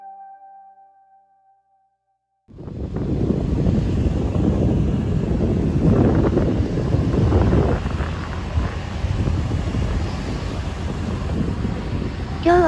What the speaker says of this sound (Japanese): 波の音聞いてるから静かにして